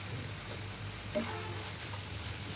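Chicken going into hot spiced masala in a pan for chicken bhuna: a steady sizzle with a brief soft thud and clatter partway through, close and continuous.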